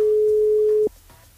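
A single long electronic telephone tone rings out as a radio host places a call to a listener, clear and steady for most of a second before cutting off into quiet line noise.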